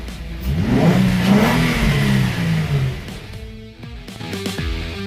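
A 2005 Infiniti G35 engine revs up loudly, rising and falling in pitch, then settles into a lower rumble with a few sharp throttle blips.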